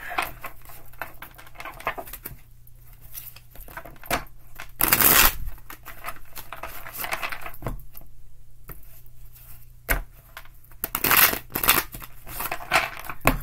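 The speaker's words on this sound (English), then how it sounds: "Three more shuffles." Tarot cards are shuffled in repeated papery riffles and crunching bursts, close and fairly loud, with brief pauses between rounds.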